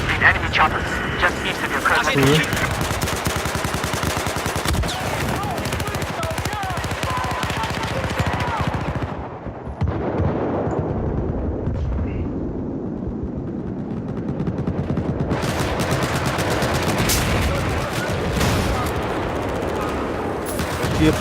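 Rapid automatic gunfire and repeated shots in Battlefield 4 Conquest Large on the Giant of Karelia map, loud and continuous with bursts, a brief lull midway, over players talking.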